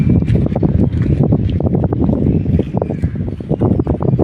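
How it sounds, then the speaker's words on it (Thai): Wind gusts across the microphone on a shore where shells are being gathered, a steady, loud, rumbling roar with buffeting thumps throughout and no talk. "ลมพัดเย็น"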